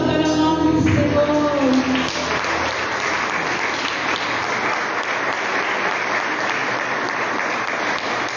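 Congregation applauding during a church service, a sustained roar of many hands clapping that swells in after a fading musical chord and continues loud and even to the end.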